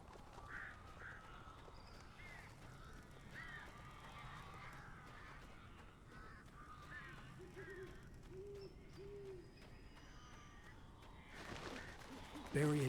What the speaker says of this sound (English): These birds are weird.